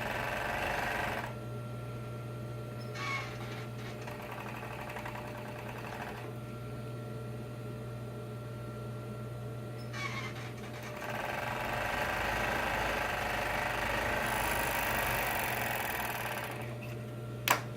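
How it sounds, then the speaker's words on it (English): A serger stitching the seams of a vest runs in steady whirring bursts, starting and stopping several times with short pauses between runs, close and even over a low motor hum. "See, Christine holds it in place as she serges."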